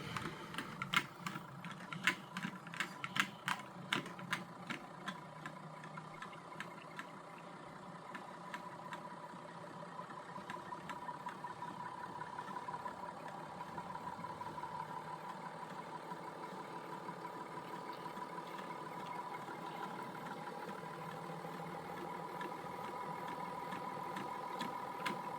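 Pulse motor with a six-magnet rotor and 20 AWG coil spinning up on a bench, first a rapid train of sharp clicking pulses, then a steady continuous mechanical whir that holds close and even to the end.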